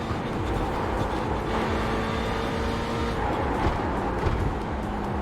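A race car in a sim-racing game drives a six-hour VLN endurance race, its engine a steady loud roar throughout with pitch shifts as cars pass close by.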